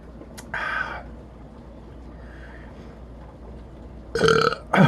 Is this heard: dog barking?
no